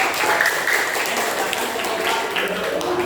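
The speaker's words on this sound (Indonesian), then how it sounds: "Beri tepuk tangan kepada kelompok." A class of students applauds a group presenting in a classroom, a steady broadband patter of many hands at moderate level, with some voices mixed in.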